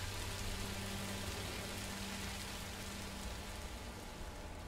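Steady rain falls in the video game Minecraft Story Mode, a dense, even hiss of drops on surfaces that holds constant throughout, with no voices.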